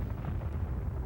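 Deep, rumbling explosion of a supernova, a sustained low roar with steady loudness throughout and no voices.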